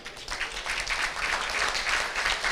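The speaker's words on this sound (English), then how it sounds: "I need the very, very big hands and clap for Mr. Muhammad Bashir" An audience at a graduation ceremony applauds for an honoured guest, a full, continuous wave of clapping that rises and holds evenly from start to finish.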